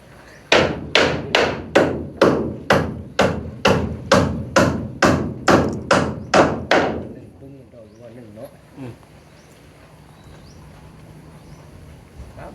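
A hammer drives a nail, landing about thirteen loud, evenly spaced blows in quick succession before the pounding stops and only quiet background ambience remains.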